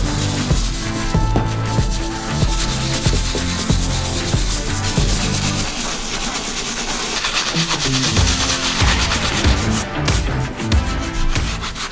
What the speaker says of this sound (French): je vais utiliser de nouveau la brosse, mais cette fois-ci avec de l'eau savonneuse, pour venir vraiment complètement nettoyer la chaussure